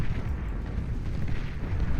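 Fatboy artillery units shell targets below in the strategy game Beyond All Reason, a continuous dense rumble of distant explosions and booms rolling together without clear breaks.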